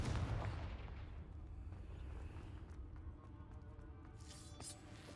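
A Confringo spell blast from Hogwarts Legacy erupts loudly at the start as a deep boom, then trails off into a long rumbling decay with faint crackles.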